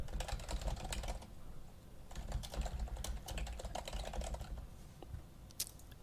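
A computer keyboard clatters as email addresses are typed in, with quick irregular bursts of keystrokes and brief pauses between runs, close and fairly quiet.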